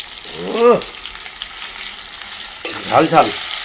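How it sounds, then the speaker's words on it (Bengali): Onions fry in a pan for a chicken curry, a steady close sizzle broken by two loud scraping stirs of a spatula, with no speech. "এবার পেঁয়াজগুলো একটু ভেজে ভেজে নেবো"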